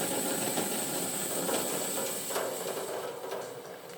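A Maxie metho stove, an alcohol-burning boat stove, roars at full flame with a steady close breathy hiss and a low rushing burn that eases slightly toward the end.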